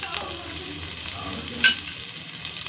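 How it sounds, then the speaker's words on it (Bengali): Cashew nuts frying in ghee in a pan, a close, steady sizzle with a brief scrape of stirring. "আর হলো কাজু বাদাম একটু ভেজে নিচ্ছি।"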